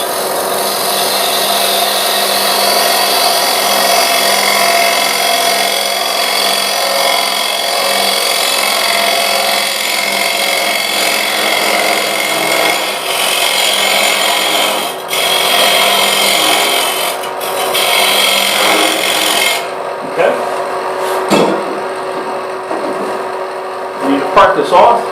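A wood lathe spins a hollow vessel while a tool rubs and scrapes the wood in a steady, loud, continuous whir that cuts off near the end, leaving a few knocks and handling sounds.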